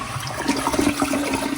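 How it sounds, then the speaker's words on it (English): A toilet flushes a disposable glove down in a new-construction home bathroom, a close, steady rush of swirling water lasting the whole moment with no talking. "flush the second glove down the second toilet"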